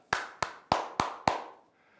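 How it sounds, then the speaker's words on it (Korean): Five slow, evenly spaced hand claps ring out close and crisp in a sixth-grade Korean lesson on staging a play, each with a short decay and then quiet. "다시 한번 여러분에게 박수를 보냅니다"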